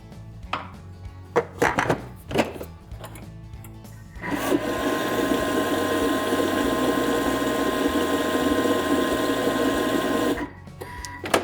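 Electric mixer blending bread dough for an apple-and-stale-bread mendiant (Bettelmann) pudding, starting after a few short knocks and scrapes and then running loud and steady for several seconds before stopping.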